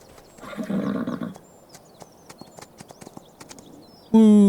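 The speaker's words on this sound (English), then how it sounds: "We can go ride the horses." Horse riding in the Farming Simulator 25 video game, with irregular hoof clip-clops and clicks and a brief whinny-like burst early on, followed by a loud tonal sound at the end.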